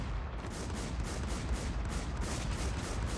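Rapid, loud gunfire in the Warz ToyStoryZ video game, a dense stream of evenly spaced shots pounding in quick rhythm with a heavy low rumble beneath.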